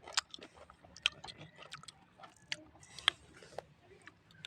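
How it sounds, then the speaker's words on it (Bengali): Someone eats mashed green mango bhorta outdoors with soft, irregular chewing and wet smacking sounds, close and quiet, with a few sharper clicks along the way. "এই যে আম ভর্তা খাইতেছি"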